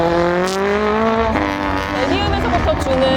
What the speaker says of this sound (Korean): 확실히 M 브랜드 같은 경우는 배기음에 정말 신경을 많이 쓰는 브랜드답게